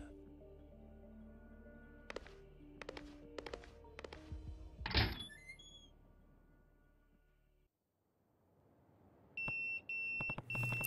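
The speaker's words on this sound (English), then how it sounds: "That's my beeper." In Yakuza 0, a pager goes off with a few short, sharp electronic beeps near the end. Before it come scattered thumps and a quiet lull.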